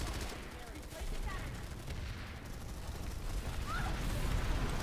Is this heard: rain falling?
no